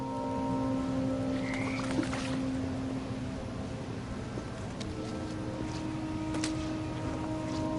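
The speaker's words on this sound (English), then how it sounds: "And toads." Toads croaking close and loud over a steady low background drone, with repeated throaty croaks and a few higher chirps scattered across the stretch, no speech.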